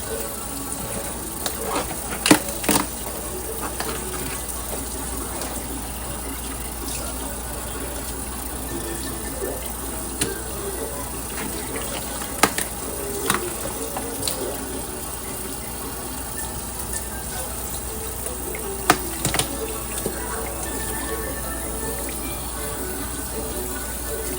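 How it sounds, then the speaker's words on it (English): Tap water runs steadily into a sink while a cabbage is washed and its outer leaves are stripped off, a continuous gushing stream broken by occasional louder splashes and handling knocks, with faint speech in the background. "The first thing we're gonna do is very simply just wash our cabbage and take off the outer leaves."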